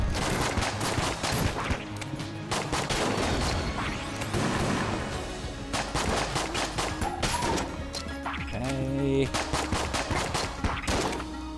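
Rapid gunfire in Enter The Gungeon, dense repeated shots crackling in quick bursts over game music, continuous and fairly loud throughout.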